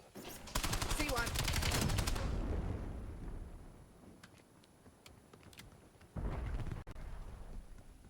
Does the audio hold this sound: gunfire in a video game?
yes